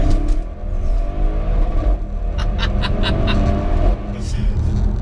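Audi RS6 accelerating hard, its engine note loud and continuous with a rising revving drone and a few sharp higher bursts.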